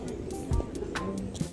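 Pigeons in a London square give soft, low coos amid a steady outdoor hum, with a few short thumps and faint chirps scattered across the moment.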